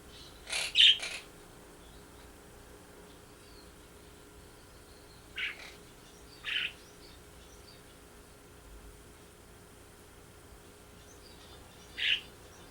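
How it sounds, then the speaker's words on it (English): A few sharp calls from a Quaker parrot and a budgerigar break a quiet room: a double squawk early, then single chirps spaced several seconds apart, close by. "It's a Quaker parrot and his little buddy, a Budgerigar."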